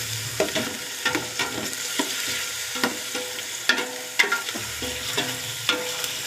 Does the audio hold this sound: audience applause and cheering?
no